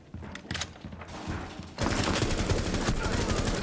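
Gunfire in Rainbow Six Siege, scattered close shots at first, then a loud sustained burst of rapid automatic fire through the second half.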